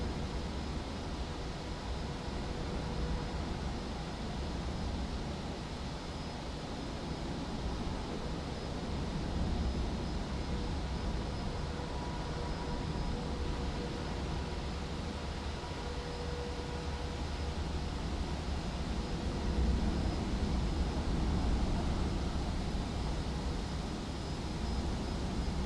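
An airliner taxis in Microsoft Flight Simulator 2024, its engines giving a steady, broad whooshing hum that stays even and unbroken, with no voices.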